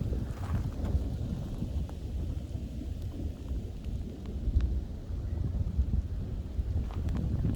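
Thunder rumbles steadily through a heavy storm, with rain and gusting wind buffeting the microphone.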